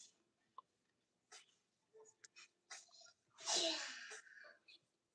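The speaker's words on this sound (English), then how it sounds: "my daughter just sneezed" A young daughter lets out a sneeze in a quiet room, a sharp breathy burst preceded by a few small intakes and sniffs, close and fairly soft.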